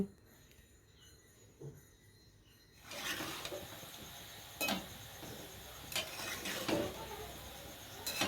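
Palm fruit fritters frying in a pan, a soft sizzle that rises after a quiet start, broken by a few sharp utensil clinks against the pan.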